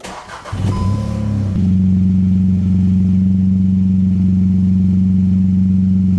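A VW Up GTI 1.0 engine fitted with a new turbo cranks and catches, then settles into a steady, even idle with a strong low drone, close and loud with no talking.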